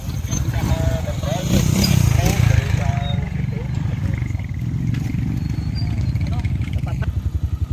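A motorcycle labouring on a rough mountain road, its engine a loud, low, steady throb with some rattling. Voices are heard briefly near the start.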